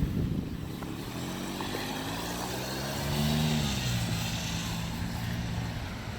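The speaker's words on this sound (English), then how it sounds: "You can hear that exhaust." Facelifted Range Rover Sport V8 exhaust rumbles past on a downtown street, a steady low drone that swells and rises in pitch midway before easing, heard from a moderate distance amid traffic noise.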